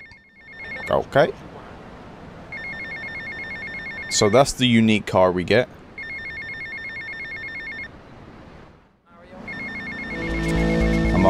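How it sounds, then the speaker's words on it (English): A phone rings in the video game Grand Theft Auto: Vice City remaster with repeated bursts of electronic tones separated by short gaps. Someone talks over it, and other game sounds come in near the end. "And my phone is just constantly going."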